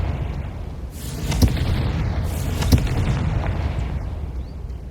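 A Confringo blasting spell from Hogwarts Legacy detonates in two loud booming bursts, about a second apart, over a steady rumbling game backdrop with no talking.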